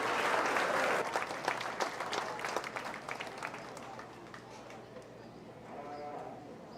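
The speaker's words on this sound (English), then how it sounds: "let's give them one more hand" Loud applause fills a 4-H fair sheep show, strongest at the start and then tapering off, while sheep bleat and a voice speaks over it.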